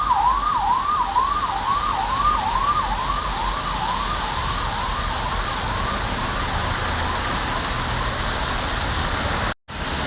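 Steady heavy rain hiss during a storm in Bangalore fills the scene while a wailing emergency siren sweeps up and down in the distance, then briefly cuts out near the end.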